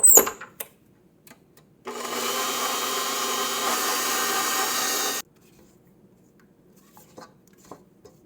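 Stand mixer with a dough hook working latke dough, a steady motor whir lasting about three seconds, bracketed by a few quieter clinks and knocks in a kitchen.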